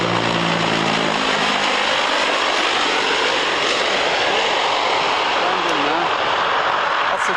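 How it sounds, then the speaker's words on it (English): A G222 Italian Air Force transport aircraft roars loudly and steadily at an air show, its broadband engine noise filling the whole clip with a slight low drone early on. "That's a G222 Italian Air Force transport."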